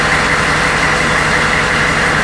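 An old truck engine that has just been started idles, a loud, close, steady rumble with a faint even pulse and no change in speed for the whole span.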